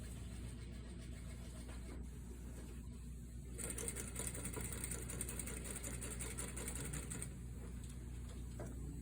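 A sewing machine stitches a shirt sleeve placket, a quiet hum that swells into a few seconds of steady rapid stitching mid-clip before easing back down.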